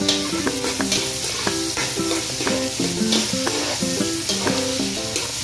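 Onions sautéing in a pan while being stirred, a constant close sizzle with rhythmic scraping and clinking of the utensil against the pan, no voices.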